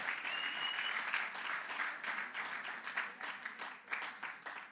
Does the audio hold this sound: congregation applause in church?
yes